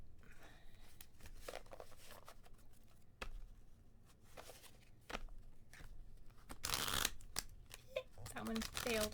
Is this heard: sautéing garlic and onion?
no